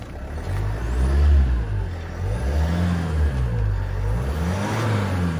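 A 150-horsepower car engine revving up and settling, rising and falling in pitch several times, loud and close with no talking.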